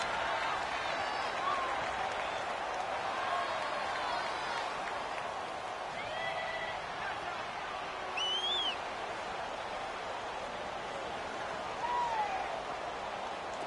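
Stadium crowd noise from a PlayStation 4 football game builds ahead of a big third down, a steady roar of cheering and applause with brief swells and whistles throughout.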